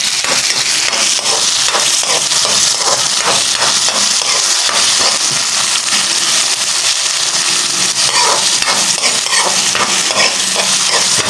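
Tomatoes cooking in a pan for a mussel dish, a loud steady sizzle with repeated scraping stirs of a utensil throughout.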